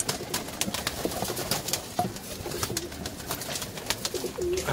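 Pigeons being fed bread coo softly and repeatedly close by, with soft rustling and wing flutters mixed among their low calls.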